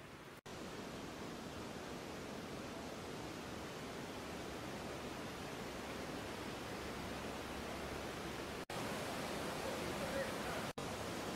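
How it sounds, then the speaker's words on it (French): Near the Devil's Bridge in Škofja Loka, the river rushes in a steady, even wash of water noise that fills the whole stretch with no other sounds. "J'entends la rivière en tout cas."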